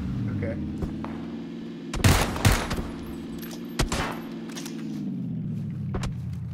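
Gunfire from a player shooting in PUBG during a vehicle chase, with a cluster of loud bursts around the middle and a few sharper single shots later, all over a steady engine drone.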